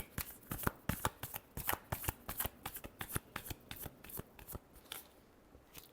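Tarot cards are shuffled by hand close up in a quick run of sharp, crisp riffling flicks. The rhythm is uneven and the sound is quiet, with no voice over it.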